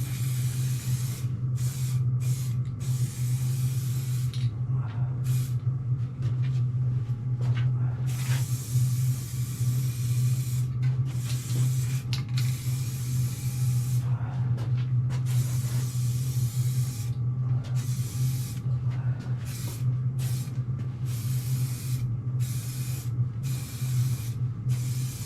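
A spray gun lays a third coat of paint on a car during a small paint repair, giving a steady, loud hiss that runs for the whole stretch with brief flutters and no talk.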